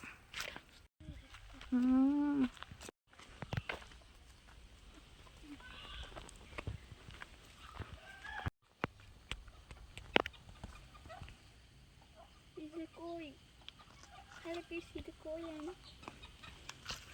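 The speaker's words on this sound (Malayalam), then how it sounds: "കോഴിയാണ് ഗൈസ്." Chickens cluck in the yard of an old ancestral house with a large garden, with short scattered calls at moderate distance. A person talks throughout and footsteps are faintly audible.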